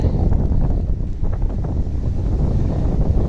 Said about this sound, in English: Just to give you an idea of how the wind's blowing up here.